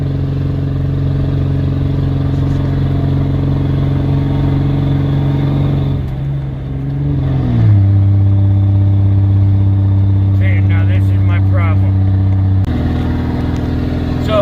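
A Dodge Ram 5500 Cummins diesel truck pulls 46,000 lbs up a mountain, its engine a loud, steady low drone that drops in pitch through a downshift midway, then keeps labouring with rattles and clatter.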